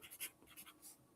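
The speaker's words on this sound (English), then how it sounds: "Let me write that down." Pen or pencil scratching on paper in a few short, quiet strokes, close and faint, with brief pauses between marks.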